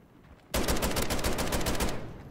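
Rapid automatic gunfire from the Jak Jawbreaker Kit gun in a first-person shooter video game, a sharp sustained burst of about a dozen closely spaced shots after a brief quiet lead-in.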